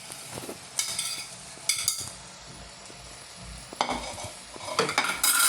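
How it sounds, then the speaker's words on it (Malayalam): Fried bread cubes being stirred into an egg hash in a pan, with soft scraping and clinks of a spoon against the pan in bursts over a faint sizzle. "അതും ഇട്ടെടുത്ത് നമുക്ക് നന്നായിട്ടൊന്ന് മിക്സ് ചെയ്യാം."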